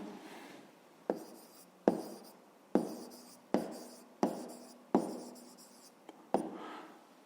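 Pen writing by hand on paper while working a school math exercise, a series of about eight distinct scratchy strokes with sharp starts, close and quiet with no speech.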